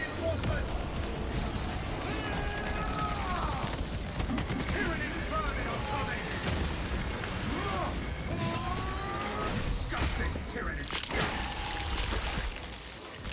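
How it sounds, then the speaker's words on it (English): Rapid automatic bolt rifle fire from the Space Marine 2 video game, a dense chattering fusillade with mechanical clatter running nearly nonstop throughout, mixed with game effects and voices talking over it. "If anything, this secondary kind of feels like you just have an auto bolt rifle in your pocket."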